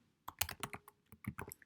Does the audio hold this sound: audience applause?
no